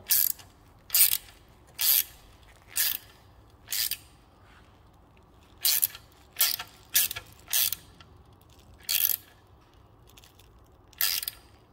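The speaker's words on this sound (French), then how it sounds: "même entendre le bruit du décollage du carter avec son joint" Sharp metallic clicks and ratcheting bursts come in short, irregular groups over a quiet background as a Citroën C4 1.6 HDI engine oil pan and its gasket unstick while loosening, close to the listener, with no one speaking.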